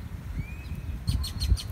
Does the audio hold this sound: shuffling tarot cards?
no